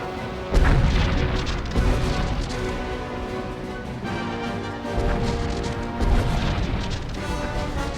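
Heavy bombing-run explosions in SWTOR, a Sith Warrior battle against shielded generators: several deep, loud booms and crashes roll out in succession over a constant rumbling din, with no talk.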